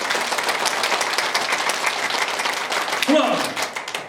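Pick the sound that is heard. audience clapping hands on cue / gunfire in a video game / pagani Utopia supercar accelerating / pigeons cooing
audience clapping hands on cue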